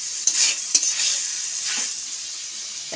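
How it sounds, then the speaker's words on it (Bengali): Fried young jackfruit being stir-fried with spices in a pan, bright crackling sizzle with a few sharp spatula scrapes, close and loud. "মশলার সাথে এঁচড় খুব ভালোভাবে কষিয়ে নেব।"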